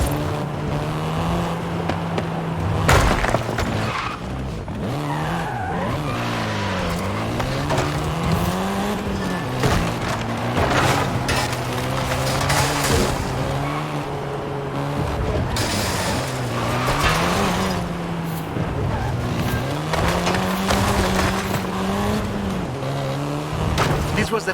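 A Volkswagen Golf R, seventh generation, drives in the video game Forza Horizon 5. Its engine drones steadily and rises and falls through repeated gear shifts, close and continuous for the whole stretch.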